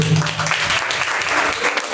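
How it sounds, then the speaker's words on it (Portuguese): A church congregation in a Portuguese-language service applauds, giving a brief, close, noisy burst of clapping with crowd sound mixed in. "Pode aplaudir Jesus, né?"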